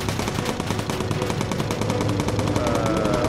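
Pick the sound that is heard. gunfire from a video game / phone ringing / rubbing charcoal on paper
gunfire from a video game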